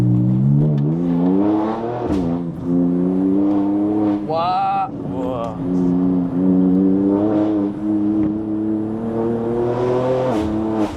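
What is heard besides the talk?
BMW M2 engine revving on a winding road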